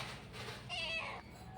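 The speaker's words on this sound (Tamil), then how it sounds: "இந்த பூனை ஓடுதுங்க" A cat meows once, a short harmonic call in the middle of a steady background hiss, fairly close but not loud.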